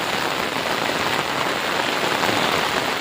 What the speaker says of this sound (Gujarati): તમને દેખાશે નહીં એટલો વરસાદ પડે છે